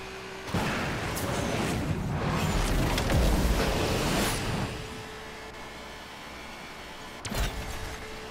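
Racing game crash in Asphalt Legends Unite as bot cars slam into a wall: engine roar swells into a heavy rumbling impact, fades to a low hum, then a second sharp thud near the end.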